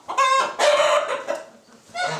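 Farm hens and chickens clucking loudly and close, several overlapping squawking calls in quick succession with no talk.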